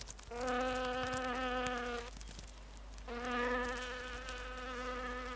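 Domestic bees buzzing in two close, steady droning bursts separated by a short lull, over faint background noise.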